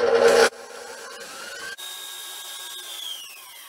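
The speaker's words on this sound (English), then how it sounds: "we will whisk this on high until the eggs become foamy" A stand mixer with a whisk attachment whips egg whites on high until foamy. A brief loud burst gives way to a steady motor whine that slowly climbs in pitch, close and alone, with no talk.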